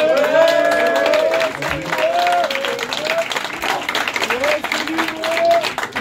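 Crowd at an MMA fight weigh-in in La Rochelle clapping and cheering for a fighter, loud applause mixed with voices and shouts calling out throughout.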